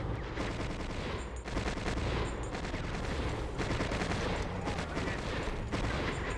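Sustained fusillade of rifle and machine-gun fire in the Conflict: Desert Storm video game, a dense, continuous roar of overlapping shots with no pauses and no talk.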